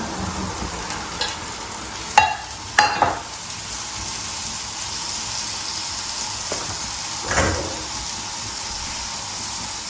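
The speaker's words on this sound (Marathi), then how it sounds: "आता चांगला भाजून घेऊ त्याला" Chopped, rinsed onion fries in a pan with a steady sizzle, broken by a few sharp scrapes and clinks of a spoon stirring, close and fairly loud with no talking.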